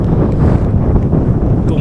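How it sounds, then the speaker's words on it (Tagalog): Strong cold wind buffets the microphone outdoors, a loud, constant rumbling roar with no pauses throughout. "ang sarap ng simoy ng hangin na malamig"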